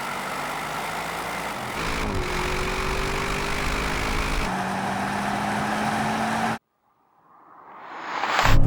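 Audi RS7, BMW M8 and Mercedes-AMG GT 63 S drag racing: a loud sustained engine roar with rising pitch as gears climb, then a sudden cut to silence before the engine noise swells again.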